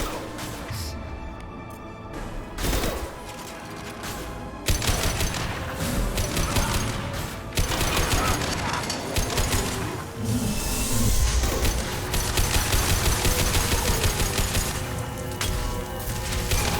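Chaotic combat in the Mass Effect 2 video game, with rapid bursts of gunfire, booms and impacts building after a quieter opening and continuing densely throughout.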